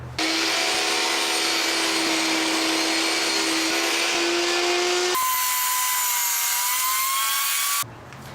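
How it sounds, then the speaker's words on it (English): A power tool cutting a straight edge along pallet boards, a loud, steady high-pitched whine that drops abruptly and continues at a changed pitch before cutting off, with no voices. "I'm just going to cut a straight edge on one side of each board."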